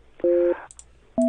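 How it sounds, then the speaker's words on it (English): A telephone sounds dialing tones: a steady dual-pitched beep, a pause, then a quick pair of short beeps and the start of another tone, loud and close. "Oh, I hear a phone dialing."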